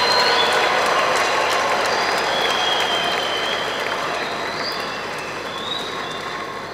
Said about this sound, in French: Et avec nos applaudissements, nous lui souhaitons une heureuse année